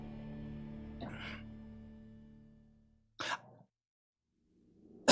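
A person coughs near a microphone in two or three short bursts, separated by quiet gaps, during an esports broadcast.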